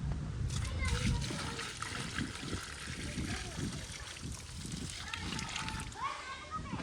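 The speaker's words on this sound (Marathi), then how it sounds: "आता सध्या थोडा झाडाला पाणी टाकतोय" Water splashes and trickles as trees are watered outdoors by hand, a continuous uneven spatter with voices faintly underneath.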